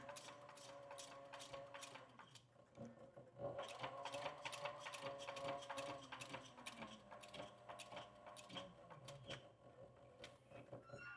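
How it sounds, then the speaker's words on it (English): A sewing machine stitches a leather rifle sling in a fast, steady run of rapid mechanical clicks and whirring, with brief slowdowns and pauses, close and fairly quiet with no talk. "I'm using a sewing machine because it's faster"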